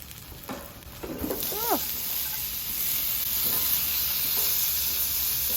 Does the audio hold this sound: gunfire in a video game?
no